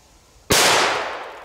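A Pluton firecracker goes off with one sudden, loud, close bang that rings out and decays slowly over the following second, after a quiet lead-in.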